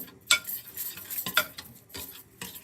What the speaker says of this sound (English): then what you want to do is you want to mix this up